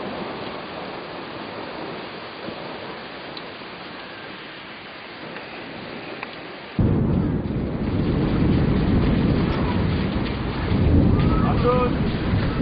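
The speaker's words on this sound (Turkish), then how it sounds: "İşte İnegöl'de yağmur manzarası." Heavy rain and a thunderstorm in İnegöl, Turkey: a constant hiss of falling rain that suddenly grows louder and fuller partway through, with low rumbling beneath.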